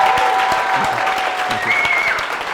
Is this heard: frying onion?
no